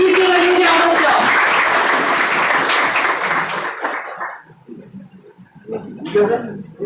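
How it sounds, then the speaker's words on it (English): Loud crowd applause fills a university induction ceremony hall, dense and sustained, then thins to scattered claps and murmuring voices toward the end. "Please give a huge round of applause."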